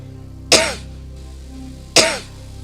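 Two sharp coughs about a second and a half apart, close and fairly loud, with quiet in between.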